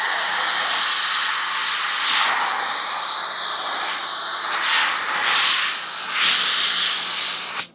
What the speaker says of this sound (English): this foam cannon came from Walmart for 30 bucks